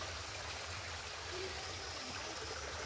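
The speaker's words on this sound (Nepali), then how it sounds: "पानी कसरी खेर गइरहेछ।" Spring water flowing away across a hillside village among cardamom fields makes a steady, unbroken rushing wash, faint and constant without any distinct splashes or voices.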